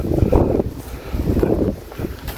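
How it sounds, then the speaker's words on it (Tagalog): Strong wind buffets the microphone outdoors on a Sunday in Japan, heavy low rumbling gusts that surge and drop in irregular waves with no voices. "Ang lakas ng hangin"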